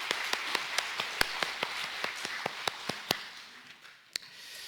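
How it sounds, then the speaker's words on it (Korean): A church congregation gives a round of applause to glorify God, heard as a sparse, rhythmic series of sharp claps rather than a dense ovation, fairly faint and steady with one louder clap near the end. "하나님께 영광의 박수 올려드리겠습니다."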